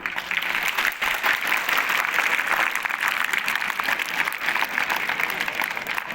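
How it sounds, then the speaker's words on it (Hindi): An audience of students and staff at a school science day celebration applauds, a loud, dense, continuous wash of clapping sustained throughout with no voices over it. "इसका तालियां बजाओ।"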